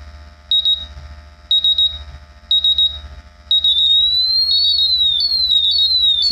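A MultiRAE and a BW Ultra gas detector go off at close range. First come four evenly spaced bursts of rapid high beeps, then a continuous piercing warble with rising and falling tones.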